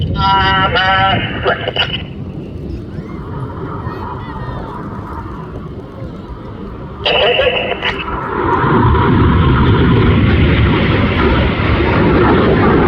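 RAF Red Arrows jets flying a display break at an air festival, a loud roaring jet rush that swells and stays strong toward the end, with a public-address announcer talking over it in places.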